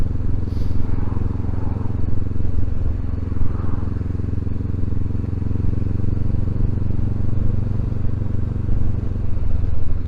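Honda CB500X motorcycle (2023) ridden slowly at about 20 mph, a steady low exhaust rumble under constant wind noise, with no breaks.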